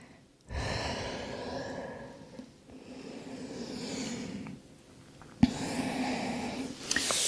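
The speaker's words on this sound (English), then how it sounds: "Take a deep breath in and out." Slow, deep breathing during a yoga stretch, a long breath in and out with soft airy rustle, followed by a second breath and a sharper intake near the end, close and quiet with no talk.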